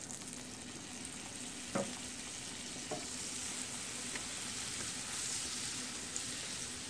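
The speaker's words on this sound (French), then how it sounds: "dans une poêle, je vais mettre ma cuillère à café de l'huile avec le beurre" Oil and butter sizzling in a frying pan, a steady crackling hiss, quiet and close, with a couple of light utensil clicks and no talking.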